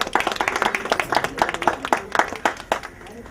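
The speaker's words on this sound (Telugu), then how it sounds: "కింద ఉన్న వాళ్ళందరూ గట్టిగా చప్పట్లు కొట్టవలసిందిగా కోరుతున్నాం." Audience clapping at an honouring ceremony, uneven bursts of hand claps with some voices mixed in, moderately loud and close.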